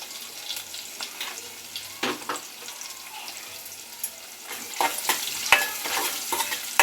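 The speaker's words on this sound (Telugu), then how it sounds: "పోపు దినుసులు గోలినాక కారం వేస్తాయి" Tempering spices sizzle in hot oil in a pan while being stirred for a lentil curry, with crackling frying noise and intermittent scraping and clinking of a spoon against the pan, close and moderately loud.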